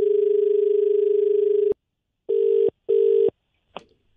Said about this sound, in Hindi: लगता है सुनाई नहीं, मैं वापस मिलाता हूँ काट के